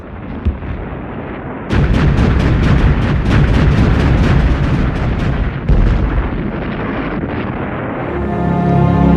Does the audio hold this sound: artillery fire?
yes